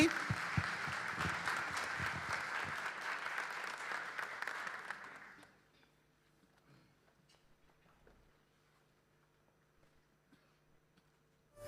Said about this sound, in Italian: Facciamo un applauso non al nostro coro, ma a Gesù